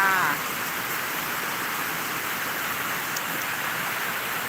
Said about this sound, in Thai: ฝนตกหนักมากค่ะ